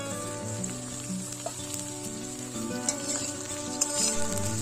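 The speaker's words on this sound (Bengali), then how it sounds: "তারপর কেটে রাখা শিমগুলো দিয়ে এখন এগুলোকে ভালোভাবে ভেজে নেব" Eggplant and flat beans frying in oil for a vegetable dish, a continuous close sizzle with occasional light clicks of stirring and no talk.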